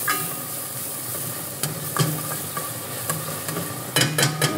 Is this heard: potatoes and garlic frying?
yes